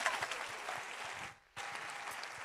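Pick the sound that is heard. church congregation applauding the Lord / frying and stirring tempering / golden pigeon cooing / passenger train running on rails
church congregation applauding the Lord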